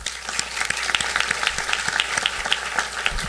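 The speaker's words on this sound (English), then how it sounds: "Please join me in another applause for Dr." An audience at a St. Francis College Charter Day ceremony applauds Dr. Green, a lively, steady round of many hands with distinct individual claps standing out close by.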